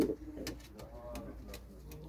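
A zuritero pigeon, a tame bird on a balcony, gives soft low coos close by, with faint rustling and scattered clicks around it.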